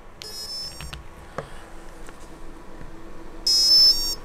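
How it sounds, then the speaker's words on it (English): An AM32 drone ESC with no radio signal emits two bursts of high electronic beeping tones, one at the start and a louder one near the end, separated by quiet with a few faint clicks. "This is what it does when there's no radio signal at all."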